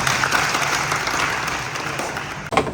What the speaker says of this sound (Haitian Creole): On va applaudir bon Dieu.